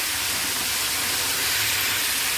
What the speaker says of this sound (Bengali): এটাকে জল দিয়ে ফুটিয়ে নেব।